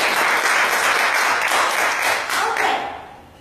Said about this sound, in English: Let's give yourself an applause.